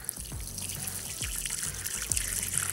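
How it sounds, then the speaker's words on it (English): Water trickles and pours in short repeated bursts into small water dishes for tarantulas, close and fairly quiet, with light splashing pulses every second or so. "we're gonna go ahead and fill up their water a little bit"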